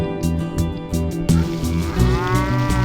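Cattle moo on a farm in Mulakuzha, Kerala, several low drawn-out calls in quick succession, close and fairly loud with some background noise, no speech.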